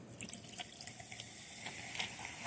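Cherry sparkling drink poured into a glass, a close, steady liquid pour with fizzing and bubbling splashes throughout.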